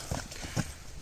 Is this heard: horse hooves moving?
yes